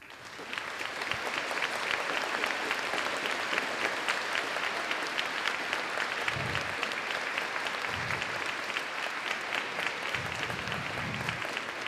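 A school audience gives a dense, sustained wash of applause at a gift presentation, many hands clapping together loudly and continuously for several seconds with a few low thumps underneath.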